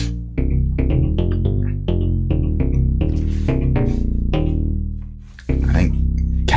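An Algoritm FM synthesizer plays a punchy 80s-style FM bass line, rhythmic plucked notes with bright metallic attacks, loud and close with no talk.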